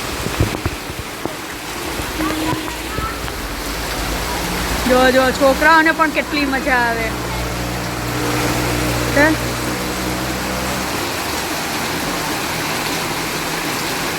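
Heavy monsoon rain pours steadily around a waterlogged home, a continuous close hiss of downpour running throughout while voices talk and exclaim partway through.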